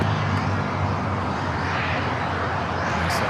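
An airplane taking off from runway 25 right at Los Angeles International Airport, a broad continuous roar of jet engines, loud and steady with no distinct change over the few seconds.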